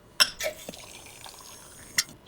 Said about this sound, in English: Accidental perfect pour